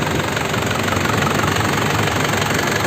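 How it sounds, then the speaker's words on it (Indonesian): A 2003 Isuzu Panther LS diesel idles steadily after warm-up, a close, loud, even clatter with a constant low rumble and no break in its rhythm. "Ini mesinnya juga udah saya panasin, suaranya sudah stabil, masih enak."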